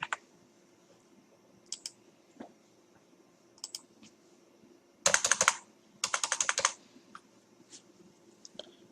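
Typing on a computer keyboard while entering Python code: a few scattered key taps, then two quick dense bursts of clicks in the middle, close and crisp, over a quiet hum.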